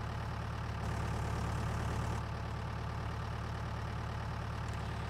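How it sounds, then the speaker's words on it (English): Tractor engine in Farming Simulator 19, a steady low droning hum running without a break throughout, fairly loud and alone with no talk, with a brief rise in brightness near the start. "Don't know why this tractor is going so slow."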